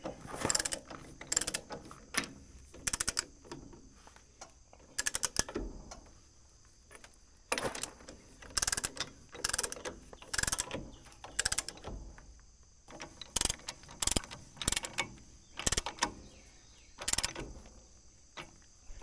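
A hand ratchet runs bolts into a backhoe frame, close quick clicking bursts repeated in short rhythmic strokes with pauses between, against a faint steady hum.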